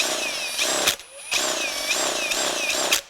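A RIDGID R86115 brushless 1/2-inch hammer drill with a large bit whines loudly at steady high speed, its pitch wavering and briefly dipping twice as the bit bites and wobbles.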